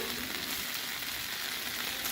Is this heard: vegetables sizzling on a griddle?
yes